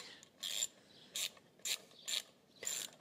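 A ratchet wrench tightens the engine cover screws on a Westfield car, sounding as five short bursts of rapid clicking, close and clear, with quiet pauses between strokes.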